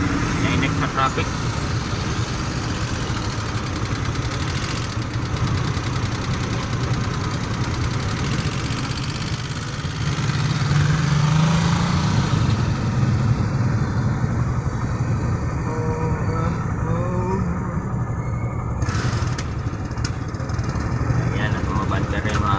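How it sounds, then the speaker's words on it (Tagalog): Slow, stop-and-go road traffic with engines idling nearby: a steady, dense rumble of running motors and vibration that holds throughout at a fairly constant level. "Nainig sa traffic."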